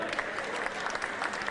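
An audience applauding a benefactor at a French gathering, steady dense clapping throughout, moderately loud and fairly close.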